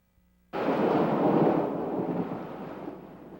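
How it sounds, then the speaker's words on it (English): Thunder from a severe thunderstorm over central New York cracks in suddenly and rolls on as a loud, broad rumble that slowly fades, with no voices over it. "There's a severe thunderstorm watch in effect for all of central New York."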